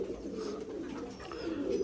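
Pigeons cooing softly in a low, continuous murmur, fairly faint and close, with no other sounds over it.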